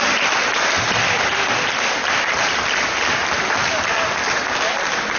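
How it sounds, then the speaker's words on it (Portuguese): Sustained applause from a large church congregation fills the whole stretch, even and continuous, with no pauses or individual voices standing out. "Vamos dar salva de palmas esses irmãos?"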